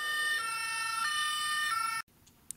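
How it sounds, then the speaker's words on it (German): A high, steady electronic siren from a Playmobil toy ambulance wails with a tinny, toy-like tone, cycling a few times before cutting off abruptly, followed by faint quiet rustling. "Es dauert nicht lange und der Krankenwagen erreicht den Unfallort."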